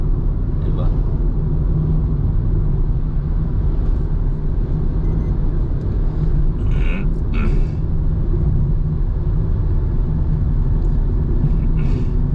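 A bus raising dust on a partly rebuilt Malshej Ghat road is heard as a steady, loud low engine and road rumble from inside a vehicle, with talking over it throughout.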